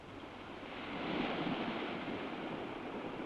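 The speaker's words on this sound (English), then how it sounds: "A shingly beach on the Riviera." Waves wash over a shingly pebble beach on the Riviera, making a steady broad surf hiss that swells slightly and carries on without voices.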